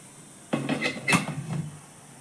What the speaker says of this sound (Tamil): இதை இப்போ மூடி போட்டு மூடி வச்சிடலாம்.